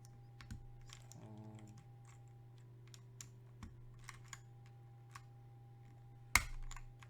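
Scattered clicks of keys being struck on a newly built mechanical keyboard, quiet and sparse, with a steady background hum and one sharper clack near the end.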